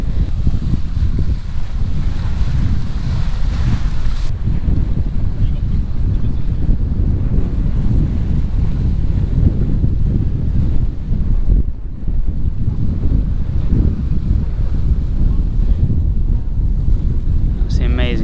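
Sailboat running downwind at about six knots, a constant rush of wind and sloshing waves with heavy gusts buffeting the microphone, loud and close.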